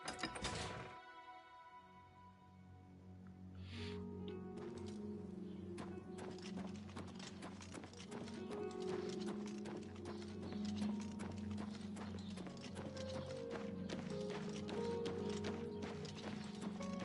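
Horses' hooves clip-clop steadily in Oblivion Remastered, a dense, continuous patter of several animals at close range over a low ambient drone, with a brief neigh-like tone early on.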